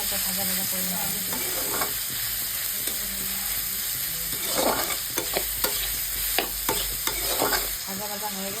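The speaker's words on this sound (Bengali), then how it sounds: "লবণ হলদিটা দিয়ে একটা ভাজা ভাজা করে নেওয়া হবে।" Cabbage fries with salt and turmeric in a hot pan, a constant sizzle punctuated by scraping and clattering strokes of a spatula stirring it, close and alone without speech.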